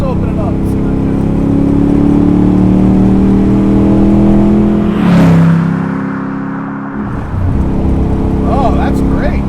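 A Superformance 1965 Shelby Daytona Coupe engine pulling hard, a loud, steady droning roar whose pitch climbs, briefly dips and then surges again, with a voice talking over it.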